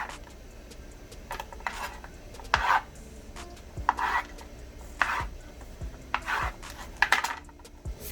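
A knife chops an onion into a few pieces on a board, giving a run of sharp, irregular knocks with short pauses between them, close up and without talk.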